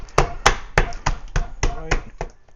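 A 70% cocoa chocolate bar sealed in a sandwich bag takes repeated blows from the butt of a knife blade, giving about eight sharp, close, evenly spaced cracking knocks.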